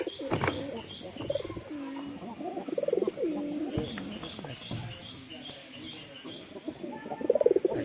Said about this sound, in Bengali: বা পায়রার বাচ্চা এসে কোপে ঢুকে আছে